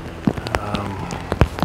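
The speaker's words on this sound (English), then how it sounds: "It's raining." Rain falling steadily on surfaces in the Gredos mountains of Spain during an ibex hunt, a dense close patter of drops with scattered louder splats, continuous and fairly loud.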